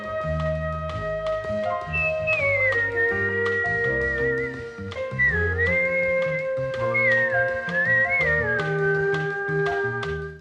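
A whistled melody carries the theme song of the Kolchak TV show, a bright, wavering tune over a steady instrumental backing of bass and chords, lasting the whole stretch at an even, moderate level.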